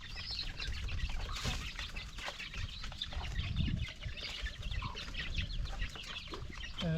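Mother hen being caught and separated from her chicks, with continuous close, agitated clucking, bursts of wing flapping and scuffling over several seconds.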